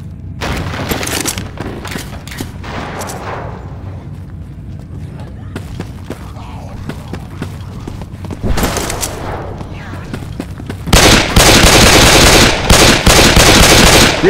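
Gunfire in Left 4 Dead 2 played through a VR mod: bursts of rapid shots and booms come in clusters, ending in a loud, sustained barrage, with voices talking in between.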